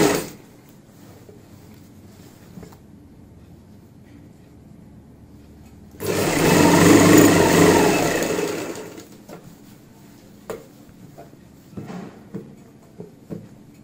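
A sewing machine stitches a palazzo pant seam with a half-inch seam allowance, running in one loud, steady burst of about three seconds midway, with quiet room noise and a few light clicks before and after.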